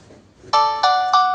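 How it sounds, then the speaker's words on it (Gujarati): A Jio Bharat V3 4G phone plays its ringtone close up and loud, a bright electronic tone that starts after a short quiet lead-in and repeats in three quick pulses. "આ ફોનનો મોટો અવાજ છે।"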